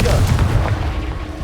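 Confringo blasting spell cast in Hogwarts Legacy, a loud booming burst at the start with a rumbling low-end tail that fades over a second and a half.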